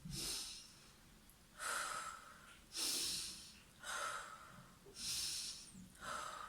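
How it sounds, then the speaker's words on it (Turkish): A teacher leading a nursery breathing exercise for four-year-olds breathes in through the nose and out through the mouth, giving six soft, evenly spaced breaths with quiet pauses between them. "İlk önce burnumuzdan nefes alıp ağzımızdan veriyoruz."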